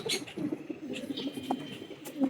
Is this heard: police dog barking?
no